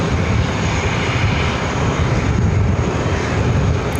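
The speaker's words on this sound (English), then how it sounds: "the big Q, the 777-300ER, the flight to Doha, flight 704" Departing JFK for Doha, a Boeing 777-300ER produces a loud, dense, unbroken jet roar on takeoff that stays constant throughout, with no speech over it.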